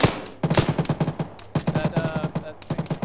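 Heavy machine gun fire in the military video game Arma, repeated rapid bursts of deep thudding shots in stuttering clusters with brief pauses, loud and close, with some faint talk on the edges.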